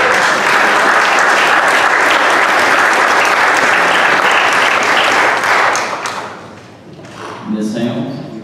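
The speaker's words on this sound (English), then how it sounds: "I will let y'all give them a round of applause." An audience at a state commission hearing on low-THC oil access in Atlanta gives loud, sustained applause that fades out after about six seconds, followed by a few thumps and faint voices.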